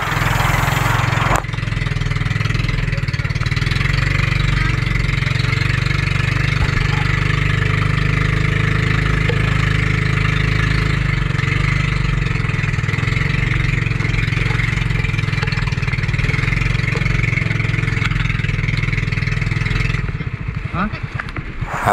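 A steady, loud boat engine drones on continuously with a low rumble, then cuts out near the end.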